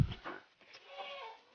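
Goats bleat while feeding on cassava stalks, short wavering calls heard close and moderately loud, with chewing and shuffling noises between them.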